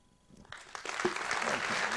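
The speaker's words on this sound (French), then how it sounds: "Oui, effectivement, on peut l'applaudir." Audience applause breaks out at the end of a lecture on the sea, geopolitics and the economy, starting with a few scattered claps and swelling into steady, dense clapping from the room.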